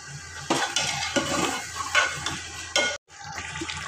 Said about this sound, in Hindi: अब मैं इसको भूनूंगी अच्छी तरह